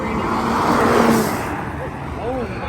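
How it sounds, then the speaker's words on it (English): A Tesla Plaid and an Audi accelerate hard in a spectator drag race, a loud rushing roar that swells and then fades, with excited voices talking over it. "the Tesla Plaid versus the Audi"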